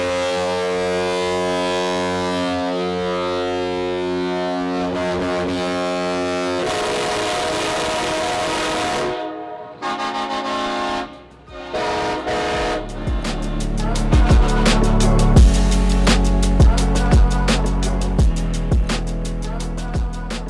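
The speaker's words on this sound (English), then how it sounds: "honking our ship horn for like 10 or 15 seconds" Ship horn mounted on a car at the SEMA show blasts in long, loud sustained tones with brief breaks, then gives way to a noisy crowd with banging and whooping.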